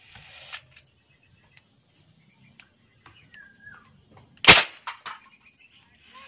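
A toy gun with a 20-round magazine fires a sharp, loud snap near the middle, followed by a couple of smaller clicks and faint handling ticks in an otherwise quiet room.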